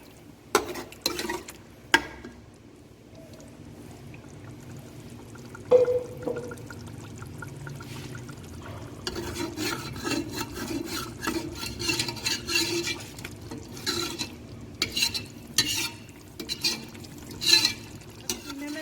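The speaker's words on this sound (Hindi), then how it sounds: "अब इसको मैं 5 से 7 मिनट तक भूनूंगी अच्छी तरह।" Minced meat (keema) is stir-fried in oil in a home kitchen pan, with a spoon scraping and stirring against the metal through a steady low sizzle and occasional sharp clinks, close and moderately loud, without talk.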